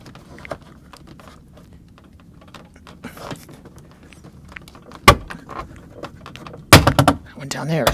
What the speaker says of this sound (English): that sound is the clips releasing